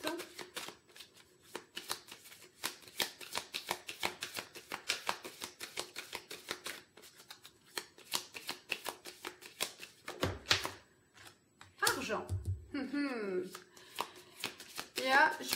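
An oracle deck of mirror cards being shuffled by hand: rapid, crisp riffling flutters repeat closely, then give way to sharper card slaps and slides while someone speaks nearby.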